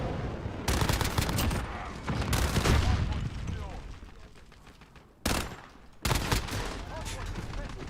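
Shotgun blasts in a first-person shooter video game, heavy booming gunfire in rapid overlapping bursts with sharp separate shots near the end, loud and close over a dense background.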